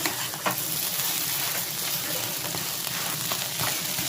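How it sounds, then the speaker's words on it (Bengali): Taro pieces (vot kochu) frying in a pan and being stirred; a dense, loud, close sizzle fills the whole stretch, broken by repeated scraping strokes of the spatula, with no talking. "এরকম দেখতে নাড়িয়ে নেব"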